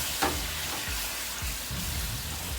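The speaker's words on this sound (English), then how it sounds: "to our melted sugar, we are gonna add our Grand Marnier" Grand Marnier poured into hot melted sugar in a pan, giving a steady frying sizzle with soft bubbling and low rumbles, close and alone with no voices.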